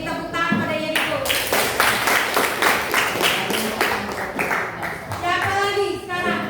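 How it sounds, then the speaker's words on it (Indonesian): A class of students claps for a classmate in a chemistry lesson, a burst of applause of several seconds, with a teacher's voice just before and after. "Beri tepuk tangan pada Yeriko."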